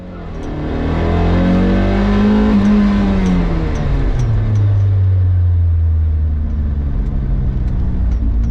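Toyota MR2 engine revving hard during a hillclimb run, a loud, sustained close-up drone with rising and falling pitch as it climbs, bounces off the valve limiter and changes down.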